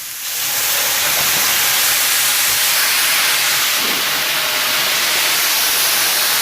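Tomatoes hit a hot pan of roasted garlic and browned chicken bits for Tuscan chicken, bursting into a loud, steady sizzle that starts abruptly and holds as a dense, close hiss.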